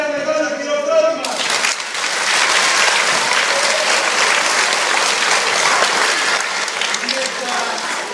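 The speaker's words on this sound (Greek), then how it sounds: "ένα μεγάλο χειροκρότημα" Audience applause at a theatre staging of Aristophanes' comedy Peace, a dense wash of clapping that swells in after a sung phrase and holds steady, with scattered voices and cheers mixed in.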